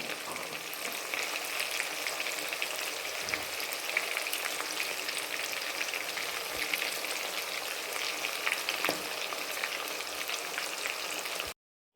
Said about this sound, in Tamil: திருப்பி போட்டாங்க நல்லா ஃப்ரை ஆகட்டும்